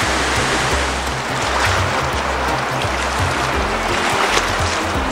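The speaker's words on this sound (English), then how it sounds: "Big, powerful river." A big, powerful river surging past in a loud, continuous roar of rushing water, heard close with slight swells in intensity and no one speaking.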